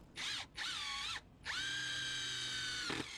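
Power drill countersinking holes in wood, heard as three close, loud whining bursts that rise and fall in pitch, the last held longest without a pause before it winds down.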